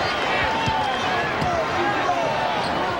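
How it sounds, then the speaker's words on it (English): Basketball arena crowd at a 1996 Bulls vs Pacers regular season game reacting to a shot, a sustained loud murmur and cheer with scattered shouts and a few sharp thumps, filling the whole moment. "Crowd reacting to the shot by Smits."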